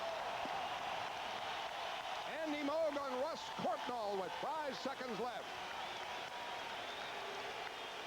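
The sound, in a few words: arena crowd applauding the Bruins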